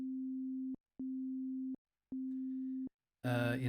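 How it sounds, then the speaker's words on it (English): A steady pure tone sounds in three separate bursts with short silent gaps between them, then a burst of louder, noisier sound at the end. "you can see it is generating a sine wave for us"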